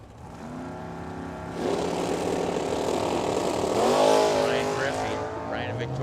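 Drag racing cars, one of them a Mustang, howl down the strip at Firebird Motorsports Park with a rising, surging engine roar. A track announcer talks over the noise throughout.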